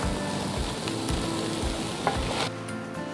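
Julienned bamboo shoots, wood ear mushroom, white radish and cabbage tossed into a pot with fried garlic, a close crackling sizzle with stirring scrapes and a sharp clack, quieting toward the end, with no speech.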